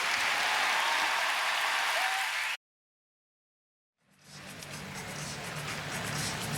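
Loud crowd applause in an arena at the 2016 World Figure Skating Championships after a Chinese pairs short program, a dense wash of clapping that drops abruptly to silence for over a second, then swells back in.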